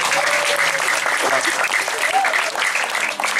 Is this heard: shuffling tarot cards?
no